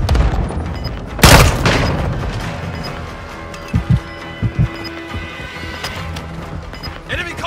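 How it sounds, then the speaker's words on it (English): A grenade bursts in a Call of Duty: Modern Warfare 2 multiplayer match with one loud, close boom early on. Several shorter thumps and distant gunfire-like cracks follow against steady battle ambience. "Throwing grenade!"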